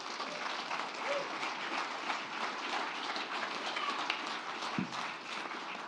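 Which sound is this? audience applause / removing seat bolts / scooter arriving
audience applause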